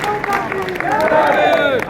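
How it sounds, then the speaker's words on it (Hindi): Audience applause at a political gathering addressed by an Aam Aadmi Party leader, a dense wash of many hands clapping mixed with crowd murmur and a speaking voice, steady and fairly loud throughout. "ताली बजाता है"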